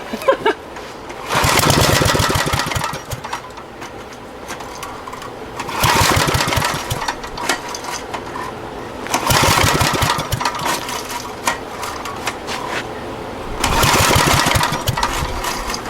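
A small engine on an abandoned Generac generator is pull-started four times, each rough, sputtering burst of cranking lasting a second or two before dying back, with quieter gaps between the attempts.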